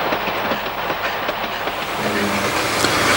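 A moving train heard in a film-stunt scene, running at over 80 km/h: steady loud rolling rumble and wheel noise throughout, with rhythmic rail clatter and no talk.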